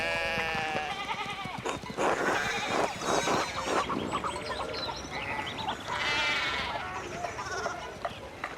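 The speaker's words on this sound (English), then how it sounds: "One of the fence rails fell and the sheep started hopping." Sheep in the Pentiment video game bleat repeatedly in wavering cries, several overlapping calls close by, with voices heard among them.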